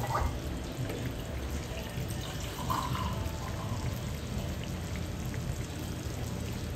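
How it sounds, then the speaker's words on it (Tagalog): A small amount of water poured into a cooking pot while preparing Filipino halabos shrimp, a soft continuous splashing trickle, fairly faint and close. "Ilalagdag pa po ako ng konting tubig pa ganyan."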